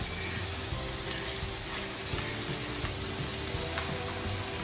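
Argentina corned beef frying in a pan, a steady low sizzle and crackle with faint scattered pops throughout, no talking.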